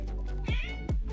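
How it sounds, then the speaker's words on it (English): A house cat cuddled up close lets out two loud, clear meows in quick succession, each with a falling pitch, with no talking over them. "Sorry, that's my cat."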